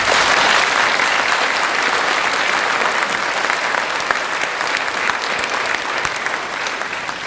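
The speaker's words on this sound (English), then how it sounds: "You got a round of applause, so they liked it" An audience at a public forum on refugee resettlement in Twin Falls, Idaho, bursts into loud, sustained clapping that holds steady and tapers slightly toward the end, with no talk heard.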